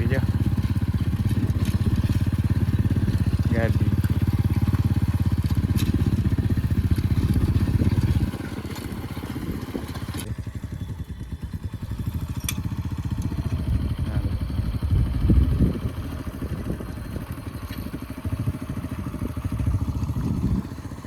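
A motorcycle engine chugs steadily nearby, loud and constant at first, then a rougher, uneven rumble continues under occasional clatter.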